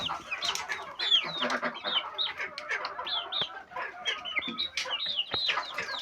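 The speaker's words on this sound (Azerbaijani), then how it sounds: "Bu çox boşboğaz cücədir" Many chicks of a black turkey peep and cheep in a dense, continuous chorus of high, overlapping calls, close by and steady throughout.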